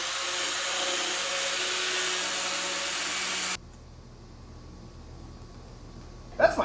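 A cutting tool whines steadily while trimming a Duramax truck bumper near the fender, loud and continuous for several seconds before cutting off, leaving a quiet lull with a brief clatter at the end.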